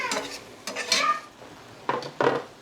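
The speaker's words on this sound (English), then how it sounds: "let's just put all of this into my big pot and get some more cooking" Cooked red peppers being tipped into a big pot for pepper sauce, with several clattering, scraping bursts of pot and utensil noise in short separate clusters, close and fairly loud, no talking.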